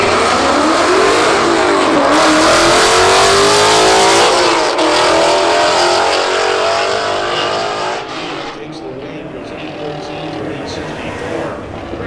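A salvage Ford Mustang GT roars at full throttle down a drag strip, engine revving hard and loud with rising pitch for about eight seconds before easing off into a fainter, receding drone.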